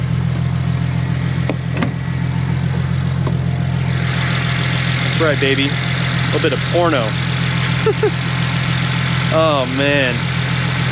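A car engine idles in an open engine bay, a loud, steady low drone running throughout while someone talks excitedly over it.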